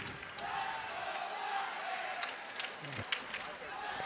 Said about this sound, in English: you hear the invading Black Bears crowd getting loud here